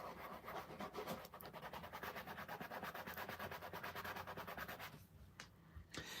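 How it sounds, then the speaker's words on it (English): Beard oil being rubbed by hand into a dry item, a steady, close scratchy friction with fast back-and-forth strokes that continues for several seconds, then fades near the end before a few brief touches. "Get a little friction. And rub it in."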